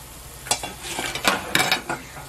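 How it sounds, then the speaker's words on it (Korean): Bread toast frying in a pan and being turned side by side, soft sizzle beneath a few sharp scraping and clinking knocks of a utensil against the pan, close and intermittent. "이렇게 여섯 면을 골고루 돌려가면서 이렇게 구우면 됩니다"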